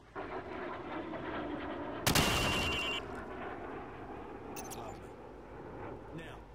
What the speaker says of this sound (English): Shoot each target while aiming down the sights.